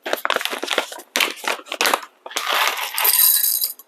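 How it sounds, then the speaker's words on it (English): Electric coffee grinder grinds a measured 17-gram dose of coffee beans for espresso, a close, gritty crunching that comes in short bursts and then steadies into continuous grinding. "you will see how the coffee grind and the sound of the coffee grinding"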